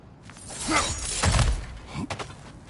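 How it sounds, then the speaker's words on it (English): Smashing through things in God of War Ragnarök: crunching, shattering breakage with creaks and a heavy thud in the middle, followed by a few rattling debris knocks. "back to smashing through things for fun and profit"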